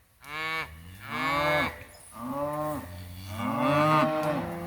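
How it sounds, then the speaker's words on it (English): Cows moo and bawl loudly in a series of long, drawn-out calls, several overlapping, close by with no talking, in a hot June pasture. "Cows are just bawling."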